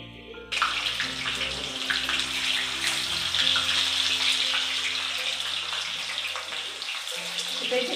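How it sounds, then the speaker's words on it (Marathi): Onions fry in oil in a kadhai for chicken dum biryani, a close, steady hissing sizzle that starts abruptly and continues evenly, with a low hum beneath. "तर इथे कांदा तळायला टाकलेला आहे मी"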